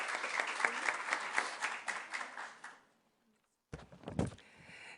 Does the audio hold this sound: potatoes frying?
no